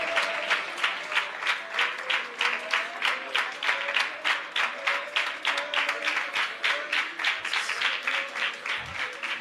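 A church congregation at a Malayalam Christian service claps together in a steady, even rhythm, many hands striking in time for several seconds, with faint voices underneath.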